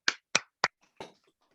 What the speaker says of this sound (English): I'm applauding myself here.